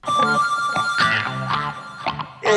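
A telephone rings repeatedly with bright, steady bell tones, loud and close, with a brief sharper burst at the end and no talk over it.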